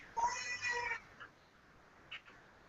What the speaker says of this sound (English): It's cats.